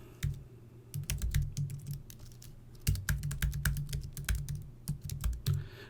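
Keys on a computer keyboard clatter in quick bursts as a login is entered, close and crisp with short pauses between runs of keystrokes.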